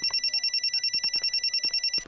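An electronic telephone bell rings in a rapid, even trill of repeated pulses at steady volume for about two seconds, close and clear, in a domestic indoor scene.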